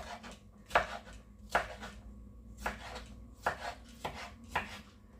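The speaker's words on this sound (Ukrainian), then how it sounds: "І тепер нарізаю на смужки спочатку, і потім на ось такі невеличкі кубики." A knife chops zucchini into small cubes on a cutting board at an unhurried pace, six or so crisp knocks a second apart with quiet scraping between, and nobody speaking.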